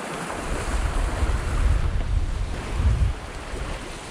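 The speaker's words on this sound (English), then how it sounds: "Late afternoon, 15, 16 knots of wind." On a Hallberg Rassy 54 sailing in 15 to 16 knots of wind, waves surge and wash past the hull with steady wind rush against the microphone, swelling twice.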